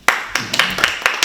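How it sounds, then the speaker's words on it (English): Audience members at a library poetry reading clap, a handful of separate, fairly sharp claps close by, sparse and uneven over about a second. "People are clapping for that."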